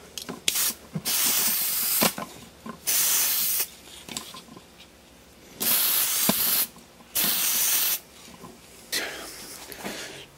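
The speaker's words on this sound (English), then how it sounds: "So now I'll just put on some lacquer." Lacquer is sprayed onto a wooden gift box in several loud hissing bursts of a few seconds each, separated by short pauses with faint handling clicks.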